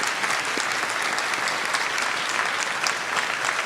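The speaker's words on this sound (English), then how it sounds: "If we could give them a round of applause." Sustained applause at a WSU Everett university commencement for the faculty and staff, a dense, even wash of clapping from a large audience that holds steady throughout.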